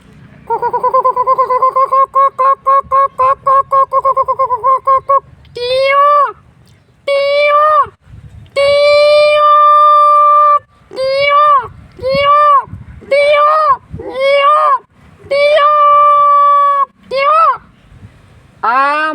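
A voice imitates a peacock's call in Bheda village, Wankaner taluka, Morbi district: a rapid rhythmic stutter of short cries, then a run of loud, drawn-out wailing calls repeated close by.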